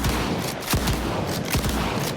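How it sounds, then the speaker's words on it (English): A KSG shotgun in the game STALKER fires round after round to empty its magazine, with heavy blasts coming in quick succession over a dense, loud background of game sound. "let's see how quickly I can dump the entire KSG's magazine and then get a new one in"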